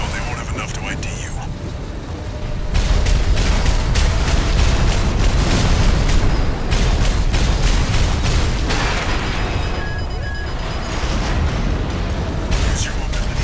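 Deep, rumbling explosions and bursts pile up in a dense, loud wash of Armored Core 6 combat noise with mechanical whirs and a voice underneath.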